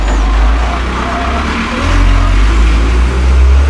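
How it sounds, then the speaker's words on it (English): A truck passes near a container garden, a loud low engine rumble that swells and eases, dominating the foreground with little else audible. "A vehicle passing, truck."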